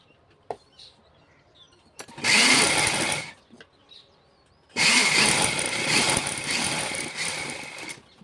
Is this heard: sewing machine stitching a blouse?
yes